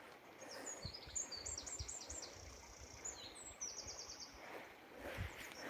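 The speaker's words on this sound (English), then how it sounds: "As you can hear, the bird call this time of year, this time of morning, is just lovely." Several birds chirp and call in the early morning outdoors during a walk by a stream, faint and fairly distant over a soft rustling background, with repeated high twittering bursts.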